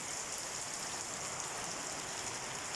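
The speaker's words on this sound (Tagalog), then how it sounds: "Lalakas ng ulan." Dense, steady rain hisses without a break during a typhoon, a heavy, even downpour with no voices.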